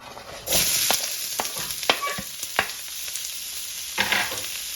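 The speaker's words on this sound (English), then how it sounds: "I'm just gonna fry these up till they get a little soft" Chopped yellow onion fries in oil in a skillet, a soft steady sizzle broken by several sharp stirring scrapes and taps, close and moderately quiet.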